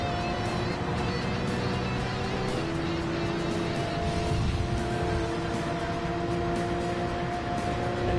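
Race cars roar through corners in Gran Turismo 7, a Porsche chasing a Supra, steady layered engine drone with shifting pitch holding loud and continuous throughout.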